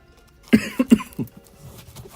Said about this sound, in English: I got a cough, man.